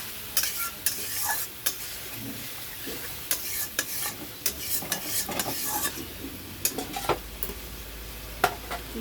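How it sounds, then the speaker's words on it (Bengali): Potatoes and papaya are stir-fried in a pan for a tangra fish curry, with a steady sizzle under repeated scraping and clattering strokes of a spatula, close and moderately loud. "আলু পেঁপে এগুলো দিয়ে ভালো করে একটু কষে নেবো"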